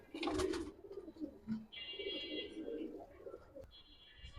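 Giribaz and coloured pigeons coo softly on a rooftop loft, giving several low, rolling coos that are faint and fairly close, with a few quiet wing and movement sounds mixed in.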